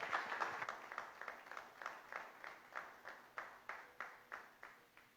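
A church congregation claps in a steady rhythmic beat, each hand clap landing evenly and fairly softly, continuing throughout without pause.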